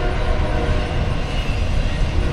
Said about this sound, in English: there's a train passing through